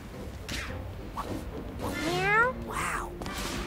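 Cat meowing in the video game Psychonauts 2, a few drawn-out meows with a rising and falling wail, close and fairly loud over a soft game background with a brief swish.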